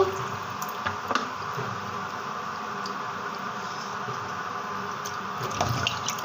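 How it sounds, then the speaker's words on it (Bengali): Chicken gizzards and liver washed in a bowl of water in a kitchen, with continuous soft squishing, swishing and dripping, plus a few faint clinks, steady and close. "এখন আমি এগুলো রান্নার জন্য ধুয়ে নিচ্ছি"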